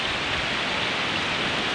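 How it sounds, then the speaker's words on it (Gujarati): Heavy monsoon rain pours down in Banaskantha district, a loud, unbroken hiss of downpour with no pauses and no voices. "મેઘરાજા જામ્યા છે અને વરસાદ ધોધમાર પડી રહ્યો છે"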